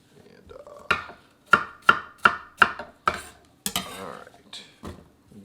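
A knife chops apples on a cutting board for apple crisp: six crisp, evenly spaced cuts, then a clatter of pieces being gathered and a few more knocks, close and clear in a quiet kitchen.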